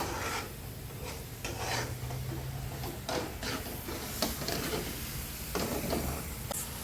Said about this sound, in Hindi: इसे इतना घुमाना है, मतलब पकाना है मसाले को तेल निकले तक